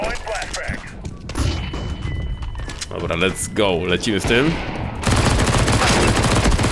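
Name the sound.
gunfire from a video game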